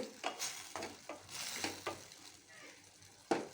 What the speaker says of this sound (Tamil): வச்சு மீடியம் ஃப்ளேமில் வச்சு நல்லா வதக்கி விட்டுக்கலாம்